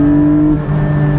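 A Porsche 718 Spyder's engine holds a high, steady tone of tight harmonics, then drops briefly and picks up again, loud and close, with no talk.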